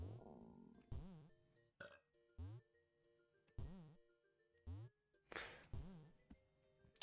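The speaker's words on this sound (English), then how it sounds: "Only perform large belches doing either drinking or eating." A series of big, deep belches in a weight gain video game, spaced every second or so, each loud and close against near silence, with a few faint clicks and a sharp high jingle near the end.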